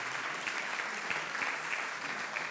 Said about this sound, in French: si vous pouviez les applaudir parce qu'ils sont vraiment super